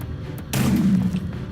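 A single deep explosion booms in the Minecraft video game after a short pause, a loud close thud with a rumbling low tail that fades over about half a second.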